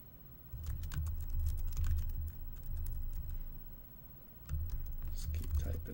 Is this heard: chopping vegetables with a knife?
no